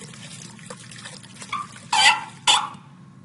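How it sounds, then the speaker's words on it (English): Running water from a faucet in a horror video game, a faint steady wash that swells into two louder gushing bursts near the end before cutting off. "Is the faucet busted?"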